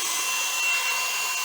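A hair dryer or similar drying tool blows steadily on a messy junk-journal art page, a continuous airy whoosh with a faint motor whine, loud and close with no talking.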